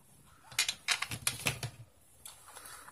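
Scissors snip and trim a piece of material while making a pink Christmas box craft, a quick run of close, crisp cuts that then trails off into quieter handling.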